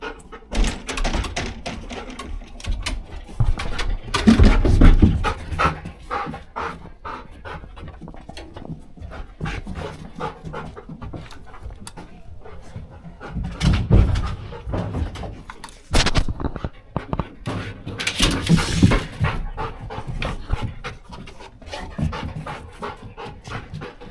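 A working dog in scenario-based training for elevated hides pants steadily through a room, with thumps and knocks as it jumps onto a desk and moves about.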